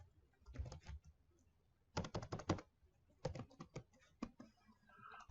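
Keys clack on a computer keyboard in short, close bursts of rapid taps separated by pauses, quiet and without speech.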